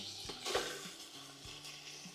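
Pork ribs frying in plenty of lard give a steady, close sizzle, broken by soft rhythmic knocks of stirring or shifting in the pan.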